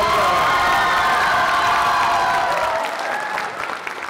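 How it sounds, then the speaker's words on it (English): A school talent show audience breaks into loud applause and cheering, with shouts and whoops from young people over sustained clapping that gradually thins out toward the end. "Sean Khan, give him one big round of applause."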